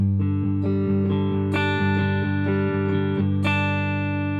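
Plucked guitar notes in a steady fingerpicking pattern over a sustained low bass, with a bright top note ringing out twice per bar on beats 2 and 4.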